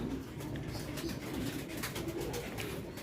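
A racing pigeon at a derby coos softly in low repeated murmurs against a muffled background, with no talking.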